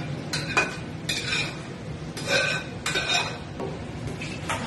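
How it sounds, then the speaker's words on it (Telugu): Tomato pulp being stirred into pickle pieces coated in chilli powder and salt, with repeated wet scraping and clinking of a spoon against a bowl in several bursts, close and moderately loud. "మళ్ళీ దీన్ని ముక్కలంతా పట్టేలాగా బాగా కలుపుకోవాలి"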